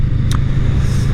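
A Honda CMX 500 Rebel S motorcycle engine drones in a low, steady rumble at close range, with a brief higher whine over it.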